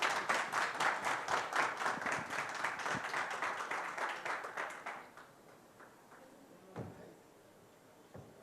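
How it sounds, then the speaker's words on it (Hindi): A studio audience claps rhythmically to welcome a guest onto a political talk-show stage. The steady clapping fades after about five seconds, leaving a few scattered thumps. "जोरदार तालियों के साथ स्वागत कीजिए"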